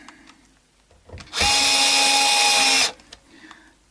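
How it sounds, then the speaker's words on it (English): A small electric screwdriver whirs in one short burst of about a second and a half while tightening small screws, with quiet handling noises before and after. "you can hear the torque kick in when they're in far enough"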